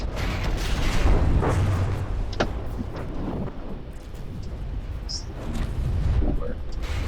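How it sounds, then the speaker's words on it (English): Naval guns shelling in From the Depths, with patrol craft trading fire: repeated booming blasts over a dense, rumbling battle din, with a voice talking through much of it. "They're just shelling."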